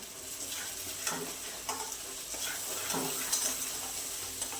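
Black masala spices with red chilli powder and turmeric are sautéed in a pan for a rustic potato dish, making a quiet continuous sizzle broken by soft stirring scrapes.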